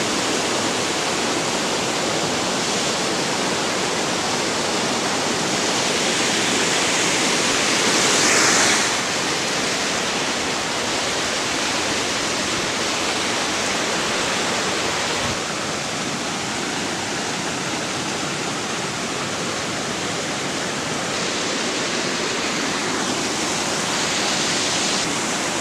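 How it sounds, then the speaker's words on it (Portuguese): A strong current of water rushes through a channel like a waterfall, a loud, unbroken roar filling the whole stretch with only slight swells in intensity. "é muita água correndo no mesmo instante por esse canal"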